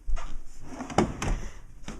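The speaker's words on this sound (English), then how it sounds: "That's full extension for a kitchen drawer." A kitchen drawer in an RV, a 2018 Glacier Peak 30RLS, slides open on full-extension rails. It gives a quiet close rolling glide with a couple of soft clicks and knocks, and no talking.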